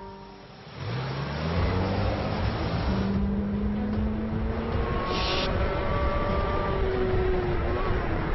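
A car driving, its engine rising to a steady loud drone after a quieter start, with shifting tonal whine over a rough road rumble and occasional voices mixed in.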